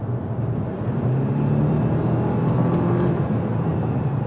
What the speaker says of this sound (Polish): jadąc w tym momencie 70 na godzinę, gaz podłogę